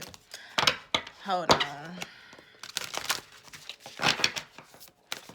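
Tarot cards are shuffled by hand in a series of quick, dry riffles and slaps, close and crisp, with a brief spoken phrase in the middle.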